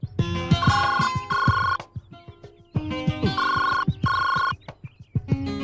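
A telephone rings in short repeated bursts with brief pauses between them, loud and close in an indoor movie scene, with no talking over it.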